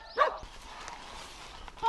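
Two short dog barks, one near the start and one at the end, with quieter kennel noise between them, at a shelter holding 300 dogs.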